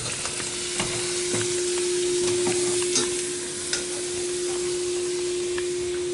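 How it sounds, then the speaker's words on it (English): A pound of ground turkey browning in a pan gives a steady, loud sizzle with occasional scraping stir clicks, continuous and close, with no voices. "So next, we're going to be taking a pound of turkey,"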